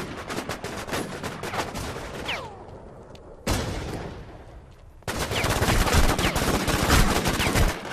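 Rapid bursts of gunfire from the War Inc. Battlezone video game, dense and loud across the whole stretch, with a brief lull near the middle before the shooting resumes heavier.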